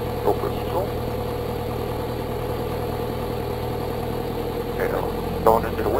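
A small airplane engine powers up for takeoff, a steady loud droning hum that fills the whole stretch with little change, with a faint voice in the background.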